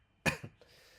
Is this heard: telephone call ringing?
no